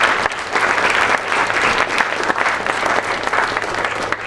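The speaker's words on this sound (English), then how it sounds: "A round of applause, please." A symposium audience at Fresno State applauds steadily, a loud, dense crowd clapping that holds for several seconds before easing slightly at the end.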